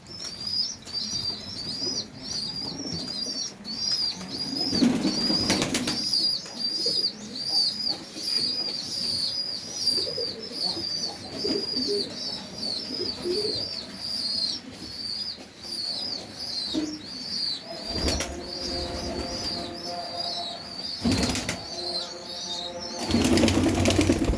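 Pigeons feeding their chicks flap their wings in several bursts over steady high chirping and soft cooing, all close and moderately loud, with no talking.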